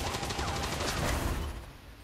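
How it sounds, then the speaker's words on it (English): Turret gunfire in the video game XCOM 2 Long War: a rapid, dense volley of shots rattling steadily for about a second and a half, then tailing away into a softer rumble. "that turret fired from way over there"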